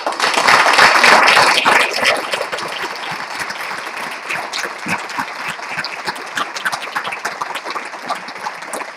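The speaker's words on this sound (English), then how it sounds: "Let's keep that applause going, people." An audience at an arts awards ceremony applauds, loud dense clapping that peaks early and then settles into a steady, slightly thinner round of claps to the end.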